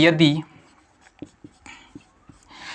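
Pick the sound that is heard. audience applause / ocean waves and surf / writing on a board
writing on a board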